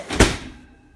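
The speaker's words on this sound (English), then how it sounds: "The door." An old oven door from around the 1960s swinging open or shut in a home kitchen, one close, solid thunk with a brief rattle that fades quickly.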